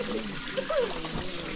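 Spring water flowing from a hose, a continuous trickling and splashing stream heard close up, with brief voice-like tones over it.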